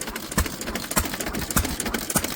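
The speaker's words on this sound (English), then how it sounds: "Cameras have a tendency to make engines sound clattery in the bottom end." A small engine over 100 years old runs steadily with a rhythmic, clattery knocking, close by and moderately loud, with no voices.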